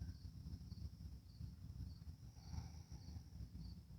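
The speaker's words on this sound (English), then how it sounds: "I'm listening to the crickets." Steady, faint cricket chirping pulses repeatedly in the high range over a constant low rumble of outdoor background noise.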